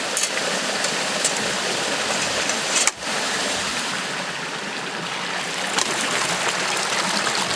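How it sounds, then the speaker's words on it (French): Water current flowing through the paddles of a Berber watermill wheel that turns a grain-grinding millstone, a loud, steady rushing stream with a brief knock partway through. "le courant d'eau passe dans les pales d'une roue, entraînant ainsi la pierre qui écrasera le grain de blé ou de maïs."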